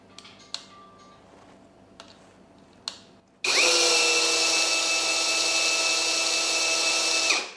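A few faint ticks and clicks, then a Tekiro CD-RH2265 cordless brushless rotary hammer starts up in drill mode and drills steadily with a loud, high whine for about four seconds before stopping.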